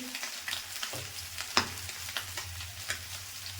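Soybean chunks fry in oil with salt, turmeric and chili powder, a soft steady sizzle broken by a few utensil scrapes and clicks of stirring in the pan.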